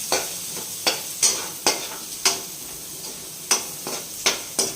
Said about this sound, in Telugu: మనం ఆనియన్స్ కూడా దూరగా వేయించుకోవాలి.